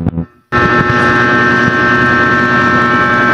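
A loud, steady mechanical whir with a constant hum fills the clip after a brief quieter moment at the start, like a fan running close by.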